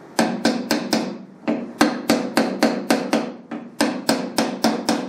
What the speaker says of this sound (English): Edge of the hammer on this lip.